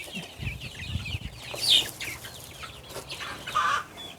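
Young chickens in a farm coop cluck in scattered bursts, and a brief rooster-like call rises in the middle. The calls come at moderate volume against a quiet outdoor background.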